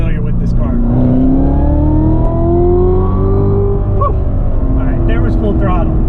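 A Callaway Corvette Z06 rated at 757 horsepower accelerating at full throttle, its loud engine note rising steadily in pitch throughout, heard close up from inside the car with a steady roar and no pauses.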